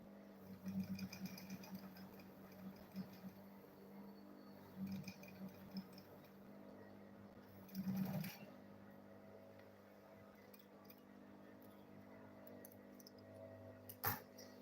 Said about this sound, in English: Then for this side now, I'll go ahead and sew this side also.